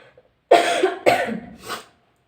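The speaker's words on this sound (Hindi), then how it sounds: "उसकी वजह से हल्का फुल्का मुझे खांसी आ रहा है" A person coughs three times in close, loud succession, the bursts harsh and raspy from a light cold, with a brief quiet breath before and silence after.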